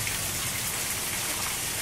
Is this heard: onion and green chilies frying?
no